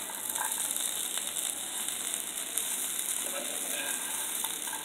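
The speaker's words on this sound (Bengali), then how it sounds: "গরম মশলার গুঁড়া দিয়ে নেড়ে চেড়ে নামিয়ে নিচ্ছি" A steady sizzle rises from a pan as chickpea bhuna is stirred with ground garam masala, with faint scraping and stirring scrapes over a constant frying hiss and no talking.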